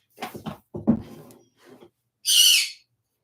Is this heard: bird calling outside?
yes